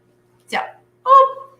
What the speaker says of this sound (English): This is Noah's dog.